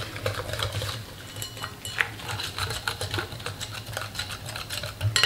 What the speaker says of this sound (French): On vient le verser sur notre appareil. On mélange bien.